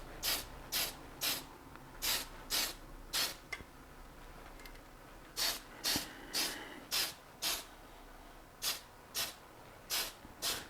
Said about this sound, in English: There's a lot of spray that's overshooting the model.